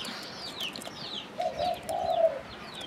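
Spotted dove coos in a few low, soft, rounded notes, close by, while other birds chirp and whistle faintly in the background.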